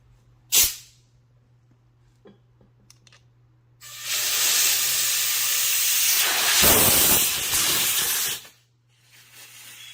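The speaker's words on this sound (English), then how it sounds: "we are going to be using the high compressor. The high compressor to pump air." An air compressor hisses as it fills an electric scooter's tubeless tire. A sharp burst comes first, then a long steady rush of air that ends abruptly, with a faint hiss after.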